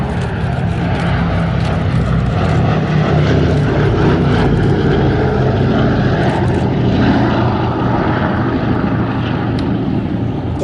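A four-engine propeller plane drones overhead at an airshow, a loud, steady, unbroken engine roar that fills the whole stretch with no talking.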